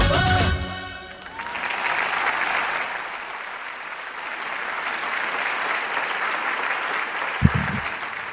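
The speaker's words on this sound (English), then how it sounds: "Let us give another round of applause to the IAYSP team" Audience at an international youth assembly breaks into sustained applause after a live music performance, steady and moderately loud throughout, with a short musical tail at the start.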